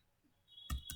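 A computer mouse clicks while working in an Excel spreadsheet: two quick, sharp clicks close together at the very end after a near-silent pause.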